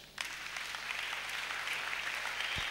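Church congregation applauding together, a dense sustained clatter of many hands that starts abruptly and keeps steady, loud throughout with no talking over it.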